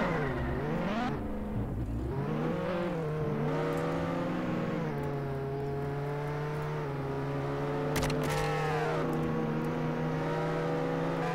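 Car engine revving in the Roblox game Jailbreak, a steady droning motor with rising and falling pitch sweeps as it accelerates, loud and continuous throughout with no talking.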